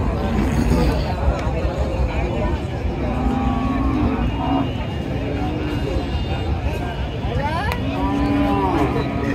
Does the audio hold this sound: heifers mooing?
yes